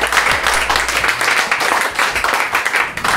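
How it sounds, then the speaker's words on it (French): An audience applauds an improv theatre troupe with steady, dense clapping that carries on without a break, loud and close throughout. "Ok, je pense qu'on peut applaudir tout le monde."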